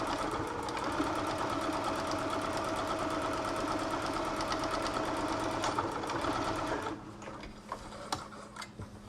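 A sewing machine running continuously as it stitches a fabric face mask cover shut, a rapid, even clatter of needle strokes up close, stopping near the end and followed by a few quieter clicks and handling noises.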